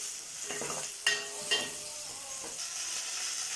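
Curry leaves and cut green chillies sautéing in oil in a pan for mutton kulambu, a steady close sizzle with a few sharp spoon-on-pan scrapes as they are stirred, no talk.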